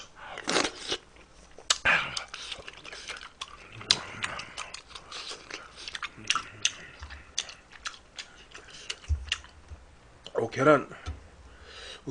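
Someone eats chewy rice-cake tteokbokki, soft biting and chewing clicks recurring irregularly up close, mixed with brief talk and mouth noises.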